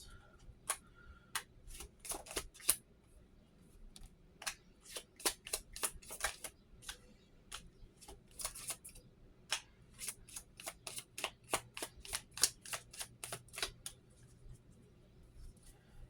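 Tarot cards shuffled by hand for a reading, a quick series of sharp, close flicks and riffles in uneven clusters over a quiet background.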